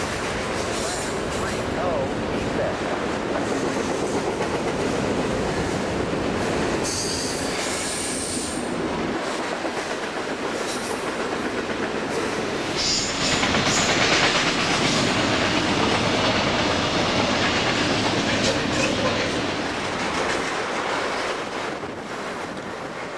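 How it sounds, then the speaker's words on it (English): Container train 21G, bound for Los Angeles, rolls past at Petersburg, Pennsylvania with a steady loud rumble of railcars and wheels, a brief high squeal partway through, and gusty wind buffeting the microphone throughout. "At Petersburg, we catch container train 21G heading to Los Angeles."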